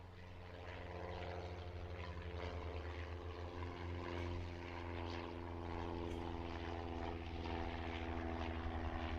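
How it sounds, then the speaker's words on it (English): A Cessna Skyhawk propeller plane takes off at a busy cargo airport, its engine a loud, steady drone that holds for the whole stretch with no talking over it. "One taking off. On a Skyhawk."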